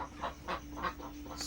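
A swan duck sitting on eggs in its nest calls in a short series of soft, nasal honking clucks, close by and fairly quiet.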